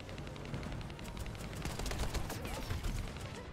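Rapid bursts of gunfire in the video game The First Descendant crackle continuously at mid distance, dense and steady throughout with no talking.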